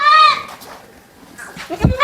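A large champion male goat at a breeder's pen gives one loud, close bleat at the start that quickly fades. A sharp thump follows near the end.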